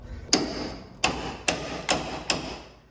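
A hammer gives a VW Beetle door hinge pin five sharp metallic taps at uneven intervals, each strike ringing briefly and decaying, with no talk.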